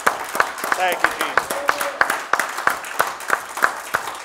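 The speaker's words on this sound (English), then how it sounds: "Let's give Him a hand clap this morning" A church congregation claps in a steady, even rhythm during a Sunday morning worship service, the sharp claps loud and regular throughout while a voice speaks briefly over them.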